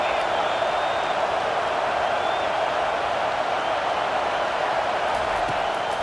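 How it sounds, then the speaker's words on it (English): A college football stadium crowd during a third-down defensive stand between Alabama and Michigan, a loud, sustained roar of massed voices filling the whole moment without letup. "Decibels rising as the crowd gets behind this defense on third down."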